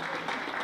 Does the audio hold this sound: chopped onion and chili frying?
no